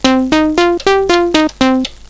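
An Elektron Analog Four synthesizer plays a short sequence of seven bright, buzzy notes, each retriggered with a sharp attack and quick decay, stepping through different pitches.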